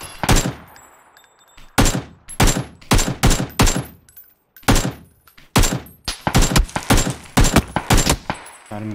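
Video game gunfire rings out in sharp, loud bursts, single cracks and quick clusters of shots separated by short silent gaps across several seconds.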